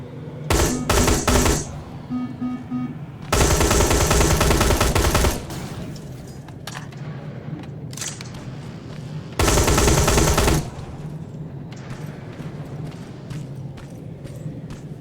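Gunfire in the video game Terminator Resistance: loud, close bursts of rapid automatic fire, two long sustained volleys and several short ones, separated by quieter stretches of ambient game sound.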